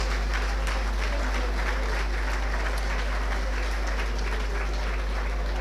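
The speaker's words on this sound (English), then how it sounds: "a big round of applause for our musicians" Steady, dense applause from an audience at a hurling club celebration dinner honoring the musicians, continuous clapping filling the room at even loudness with no pauses.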